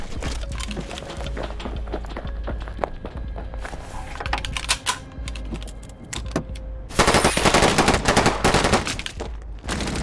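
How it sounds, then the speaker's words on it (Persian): Rapid machine gun bursts in a film shootout at a surrounded house, sharp repeated gunfire rattling through the clip and growing loudest and densest near the end. "تیراندازی رو شروع کنید تا بفهمم با کی طرفن"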